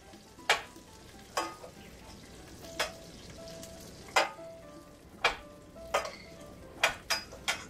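A poultry escalope sizzles softly in a pan while hot fat is spooned over it, with a low frying hiss broken by about ten sharp metallic taps and scrapes at irregular intervals.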